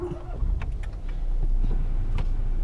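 A Ford Fiesta 1.0 EcoBoost Titanium's engine is started by its keyless push button, settling into a steady low idle rumble from inside the car with a few faint clicks.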